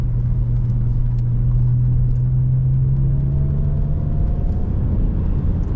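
The 3.2-litre V6 JTS engine of an Alfa Romeo Brera Q4 pulls hard on a straight, heard from inside the cabin as a deep steady rumble with a slowly rising engine tone.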